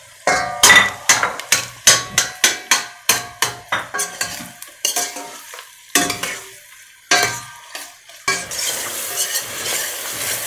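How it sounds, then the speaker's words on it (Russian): Loud, rhythmic stirring clatter of a utensil against a pan as onion and meat fry for Turkish kuru fasulye, a rapid series of strikes, then sizzling with occasional scrapes. "лук и мясо надо жарить хорошими"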